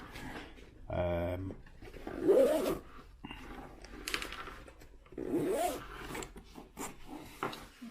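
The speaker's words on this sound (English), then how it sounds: "These are really, really tough zips, by the way." The tough zippers on a small Hazard 4 Bandoleer Mini Optics sling bag rasp in two close zipping strokes, with handling rubs in between. Someone talks over part of it.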